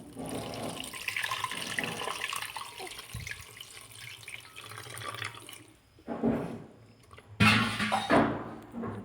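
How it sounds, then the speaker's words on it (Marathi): Water from a tap runs and splashes as homemade ghee is washed, with the water poured off and changed. There are several louder gushes and pours near the end. "मी परत ते पाणी काढून टाकलं आणि दुसरं पाणी घेतलेलं आहे"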